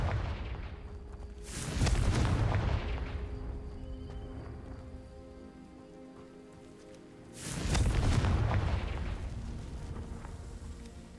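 Confringo fire spell bursting into flame against dry vines in Hogwarts Legacy, two loud whooshing blasts several seconds apart, each with a crackling roar that fades slowly under a steady low ambient hum.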